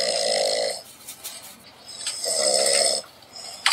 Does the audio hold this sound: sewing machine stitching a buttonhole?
no